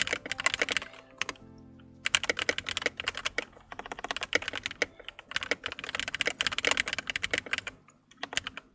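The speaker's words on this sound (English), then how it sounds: "Also, does it sound nice, the keyboard?" Rapid bursts of clicking on a new computer keyboard during fast TETR.IO play, close and steady with brief pauses between flurries of keystrokes.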